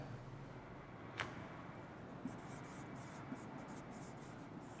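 Writing on a board in a chemistry class gives faint scratching strokes with a few light taps, quiet against a hushed room background.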